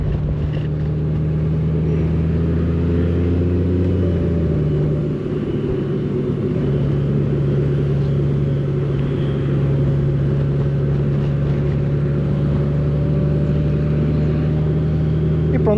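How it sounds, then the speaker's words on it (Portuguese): A Honda Goldwing 50th Anniversary motorcycle rumbles past up close, its steady low engine drone and a shifting pitch around the middle, with faint background noise throughout. "Aqui a passar na moto Diana outra vez"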